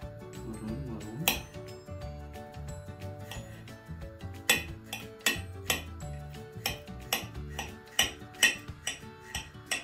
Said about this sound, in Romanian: Începem să tăiem usturoiul mărunt.